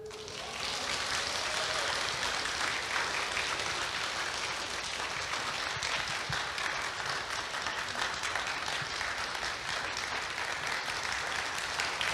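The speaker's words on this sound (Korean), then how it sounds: "박수를 너무 많이 쳐주셔서 제가 안 내려가고 섰습니다." Sustained audience applause at a Korean festival concert: dense, even clapping from a large crowd that fills the space continuously from start to finish, without pause.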